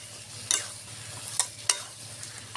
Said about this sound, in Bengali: একটু নেড়ে চেড়ে ভালো করে কষিয়ে নিব।